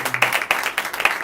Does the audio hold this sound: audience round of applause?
yes